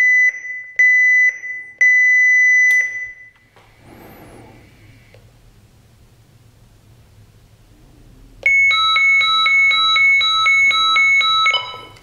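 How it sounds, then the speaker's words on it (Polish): Loud electronic alarm tones from a marine radio distress alarm: a few repeated beeps, a quieter pause with low hum, then a sustained warbling two-tone alarm blaring for several seconds. "Alarm jest odbierany."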